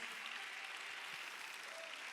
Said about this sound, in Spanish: Denle ese aplauso fuerte al Señor Jesús.